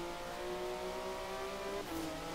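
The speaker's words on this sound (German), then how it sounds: "Das Auto ist kein TDF. Das ist ein Cayman." Porsche Cayman engine racing in Forza Horizon 3 in wet weather, giving a steady sustained drone with a pitch that climbs and then drops briefly near the end, heard alone.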